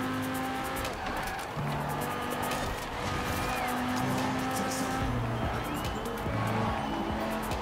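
A Lamborghini roars through a winter race in Forza Horizon 4, its engine loud and close as the revs rise and fall. Tires squeal and skid repeatedly while other cars rush past.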